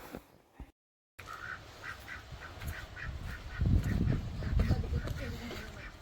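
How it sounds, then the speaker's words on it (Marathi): Ducks quacking on a hotel lawn, a rhythmic series of repeated calls at moderate distance over low background rumble and ambient noise, starting after a brief gap of silence. "हे आमच्या हॉटेलमधले बदक आहेत, जे पूर्ण लॉनभर इकडे तिकडे फिरत असतात"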